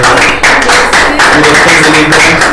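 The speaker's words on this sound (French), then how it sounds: "Est-ce qu'on peut applaudir pour Tony, s'il vous plaît?" An audience applauds for Tony in a French-language television studio, with dense, loud, continuous clapping that carries through the whole moment and voices mixed in underneath.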